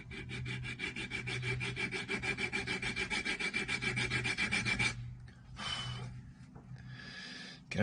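A file rasps across the wooden nut of a homemade three-string spoon fiddle in quick, even back-and-forth strokes, close and clear, then stops, leaving a few softer scrapes and handling noises.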